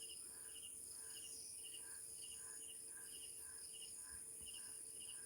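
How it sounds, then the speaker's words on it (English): Crickets chirp at night in a steady, faint rhythmic pulse of repeated trills, distant and continuous with a constant high insect drone behind, no voices. "Well, there's crickets too, actually."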